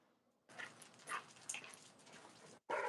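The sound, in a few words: dog barking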